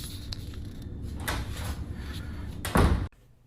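A door slams once near the end, a sharp loud bang after a few seconds of low room noise and fainter knocks, then sudden quiet.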